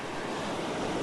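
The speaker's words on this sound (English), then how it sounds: "the waves are certainly crashing up over me" Ocean waves crash on a rocky shore during a dramatic seascape outing, a continuous close surf roar mixed with wind buffeting the microphone.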